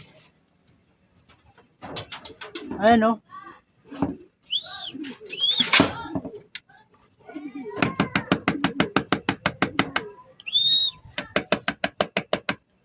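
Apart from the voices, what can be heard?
racing pigeons arriving and cooing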